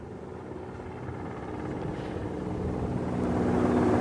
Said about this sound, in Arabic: تصل مروحية البحث والإنقاذ لنقل المصاب بتقنية الرفع بالملفاف